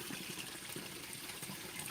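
A waterfall near a temple in Thailand gives a steady, even rush of flowing water, faint and distant, with no talking.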